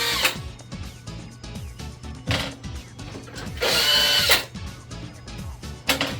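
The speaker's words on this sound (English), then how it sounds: "all you have to do is just unscrew the screws" Power driver unscrewing the retaining screws from a Triton AS2000XT thermostatic power shower, with repeated short whirring bursts of the motor starting and stopping, close and fairly loud, and some rattling handling noise between runs.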